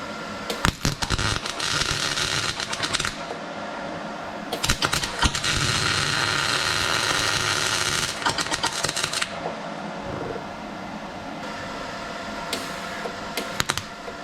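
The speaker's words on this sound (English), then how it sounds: "I think I got my welder issue figured out, so these should go" A welder repairing a Toyota FJ62 Land Cruiser seat frame, with bursts of harsh crackling, buzzing arc noise in several long runs separated by short pauses, close and loud.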